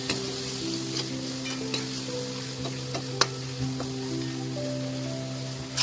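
Garlic chutney and tomatoes fry gently in oil while being stirred, a soft sizzle with scattered clicks of a spoon against the pan and a low background hum, no talking.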